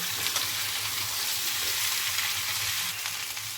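Vegetables and spice paste for Bengali shukto sizzling and frying steadily in a pan as they are stirred, a continuous close crackle with soft low scraping and no talk.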